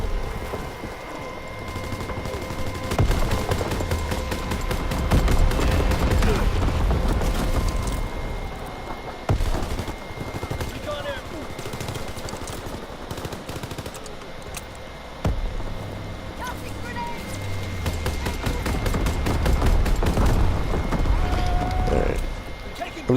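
Bren light machine gun fire in Call of Duty WWII gameplay comes as repeated rapid bursts mixed with game ambience and other battle sounds, with occasional voice chat over them.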